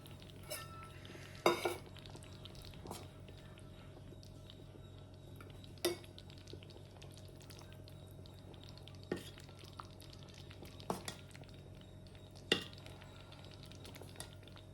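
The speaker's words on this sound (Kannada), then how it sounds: "ಇದನ್ನ ಒಂದು ಬೌಲಿಗೆ ನಾವು ಸರ್ವ್ ಮಾಡ್ಕೊಳ್ಳೋಣ." Hesarubele payasa, a moong dal pudding, being served from a pot into a bowl, with scattered clinks of a ladle or spoon against metal over a quiet background and no talk.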